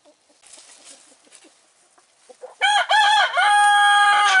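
Chickens in and around a coop cluck softly at first, then a rooster lets out a loud, close crow that is quickly followed by another crow.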